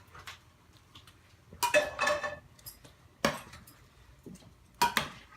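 A big spoon stirs a baked gigantes beans mixture, producing several separate bursts of clinking and scraping against the dish, with quiet pauses between them.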